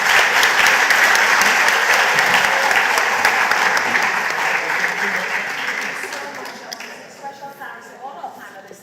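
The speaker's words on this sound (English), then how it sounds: "Give them a round of applause again." Audience at a cultural and creative industries conference in Grenada applauds panelists, a loud sustained round of clapping that gradually thins and fades into scattered claps toward the end.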